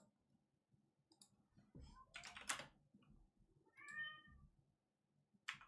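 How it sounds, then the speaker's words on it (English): A pet cat meows indoors, several short close cries with one drawn-out tonal meow, mixed with scattered clicking like keyboard typing and faint background rumble. "I thought that was a cat outside. No, that is my cat."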